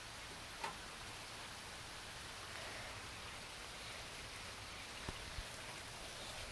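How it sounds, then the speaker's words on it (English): Steady rain falls outdoors near a tree, a constant soft hiss with a few faint drip-like ticks, fairly quiet and with no voices. "there's a lot of rain"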